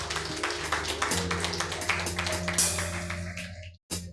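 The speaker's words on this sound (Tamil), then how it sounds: "ஒரு கைத்தட்டு கொடுப்போமா?" An audience at a church service claps their hands together, a dense run of quick overlapping claps over sustained tones in the background, breaking off abruptly near the end.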